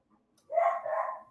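A single dog bark or short yelp, close and fairly loud, lasting under a second with a slight trailing whine, alone with no talk.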